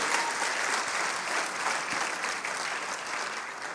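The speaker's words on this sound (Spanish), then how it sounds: "dale un aplauso al Señor, dale un aplauso" Congregation clapping during a pastors' retreat service, sustained even applause from many people filling the whole stretch at moderate volume.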